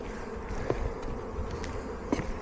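Swarming honeybees around a hive give off a dense, steady buzzing drone at moderate volume, with a few individual bees zipping close past.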